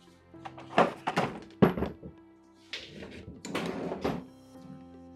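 A household furnace blower motor being fitted back into its squirrel cage wheel, a string of close, loud metallic thunks and knocks with short quiet gaps between bursts and no talking.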